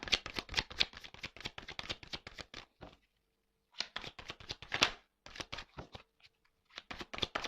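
Tarot cards are cut and shuffled in quick crisp bursts of riffling, broken by a short pause, then more close, fairly quiet shuffling with no talk.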